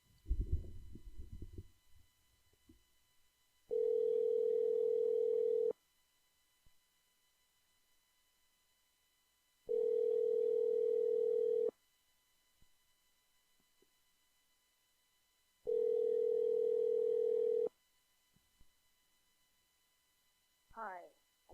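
A telephone call rings out through the handset as a caller waits: three long, steady ringback tones separated by even pauses, with brief noise before the first ring.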